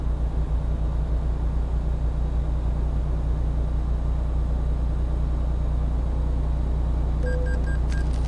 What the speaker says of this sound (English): I can like really hear the engine in this one.